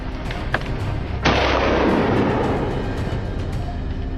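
A single rifle shot during a wild boar hunt in snowy New South Wales hills cracks out loud and near, then its long rumbling echo rolls away over steady outdoor background noise.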